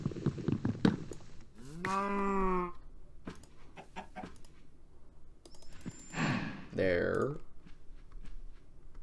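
Cow in the Minecraft video game giving two drawn-out moos a few seconds apart, close and clear, with someone talking between and around them.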